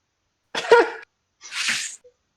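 A single loud, close sneeze bursts out, followed after a short pause by a second breathy sneeze-like exhale.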